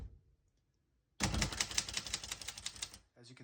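A 1957 Royal Quiet De Luxe portable typewriter types a fast run of crisp key strikes after a quiet start, close and clear, ending with a pause and a few more keystrokes.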